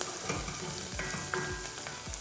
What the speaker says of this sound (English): beautifully chopped onion. Saute this for about a minute.